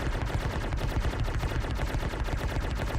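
Sustained rapid gunfire from a ship turret in the space game Star Citizen, a dense continuous automatic roar with no break across the whole stretch.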